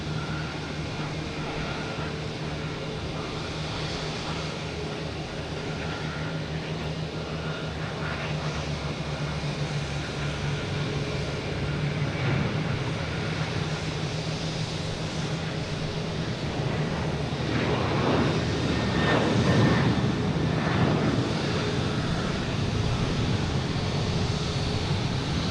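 A United Boeing 737 airliner heading to Washington passes at Boston Logan Airport as a steady, fairly distant jet roar that builds slightly toward the end over continuous outdoor background noise.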